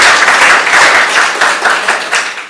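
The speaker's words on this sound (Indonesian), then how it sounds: "Tepuk tangan untuk Tuhan Yesus." A church congregation claps together in steady, fairly loud applause that lasts a couple of seconds, its sharp claps blurring into a continuous wash.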